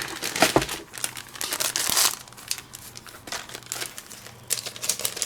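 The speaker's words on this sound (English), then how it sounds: "Be careful when you open that packaging." Tightly sealed plastic stencil packaging being torn open up close, with bursts of crinkling and ripping that swell and fade over several seconds.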